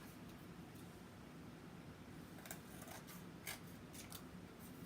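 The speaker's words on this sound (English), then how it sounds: "I am going to trim it down using my scissors and our template." Scissors snip through a photo print as it is trimmed against a template, several quiet, brief cuts clustered near the end over a faint steady hiss.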